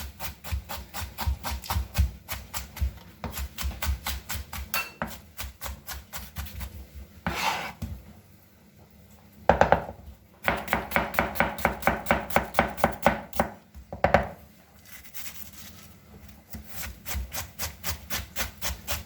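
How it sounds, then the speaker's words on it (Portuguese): Kitchen knife finely chopping an onion on a board for mushroom risotto, rapid rhythmic close taps in long runs, broken by brief pauses and scraping, with no talking. "vamos começar por picar uma cebola bem picada"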